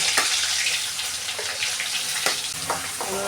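Chopped ginger and garlic fry with mustard seeds in coconut oil in a pan, giving a close, steady hiss of sizzling with scattered sharp pops and crackles throughout.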